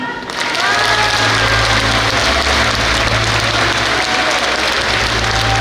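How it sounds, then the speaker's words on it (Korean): Audience applause for former South Korean president Park Geun-hye at a year-end event, loud and sustained throughout, with a steady low engine-like hum underneath and faint tonal voices early on. "다시 한번 큰 박수 부탁드리겠습니다"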